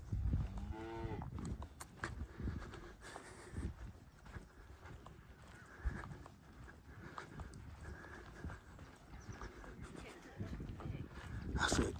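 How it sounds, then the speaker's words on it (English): Cattle on a walking path at Curbar Edge in the Peak District let out a clear moo near the start, among shuffling hooves and outdoor rustling close by. "Now these cattle have just wandered down here."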